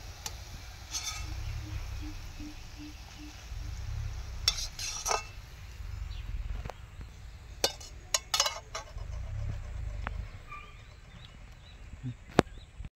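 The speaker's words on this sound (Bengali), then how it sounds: "তো বড়াগুলো ভাজা হয়ে গেছে, এবার আমরা বড়া তুলে নিচ্ছি।" Chhana (cottage cheese) fritters are lifted out of hot oil on a riverside outdoor cooking spot: a steady low sizzle runs throughout, punctuated by several sharp metallic clinks and scrapes of the ladle against the pan.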